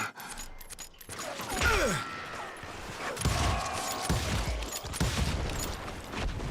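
Western video game shootout with bursts of gunfire scattered through a noisy scene, shots and impacts overlapping with crashes and ambient clatter at moderate loudness.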